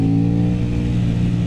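An Aprilia RS 660 motorcycle engine holds a loud, steady mid-pitched drone for a moment, close by, with no clear rise or fall.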